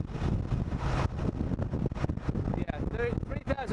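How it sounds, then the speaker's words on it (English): Wind buffets and roars around the windshield of a Honda Transalp motorcycle while riding, a rough, continuous rush that is loudest at first, with a voice talking over it. "I'm getting a lot of wind buffeting around this windshield into my face"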